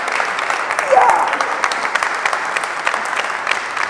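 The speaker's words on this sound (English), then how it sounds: "Can we get our hands of applause?" An audience at a Today at Apple session applauds with close, lively clapping that peaks early and then continues at a steady level, while a voice speaks over it.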